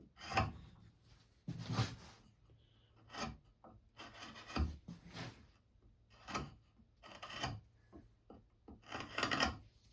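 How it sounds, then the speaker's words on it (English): A carving knife chamfering the feet of a wooden stool, rhythmic rasping strokes of blade on wood repeating about every second, close and fairly quiet. "I often use a carving knife to chamfer the feet."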